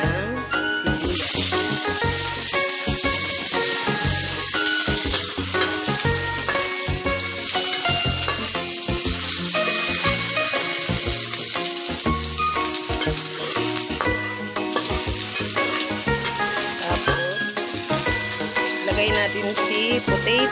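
Potatoes fry in hot cooking oil in a pan at home, a steady loud sizzle running throughout beneath rhythmic background music.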